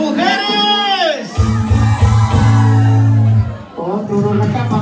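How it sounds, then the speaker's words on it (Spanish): High shouts and whoops from women ring out over a loud, thumping music track at a Saturday dance night with a DJ in Montrose, Colorado, the cries rising in bursts above the steady beat. "Y el grito de las mujeres."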